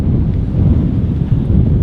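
Heavy wind buffets a microphone with a constant low roaring rumble, loud and unbroken throughout, outdoors at Manchester Airport.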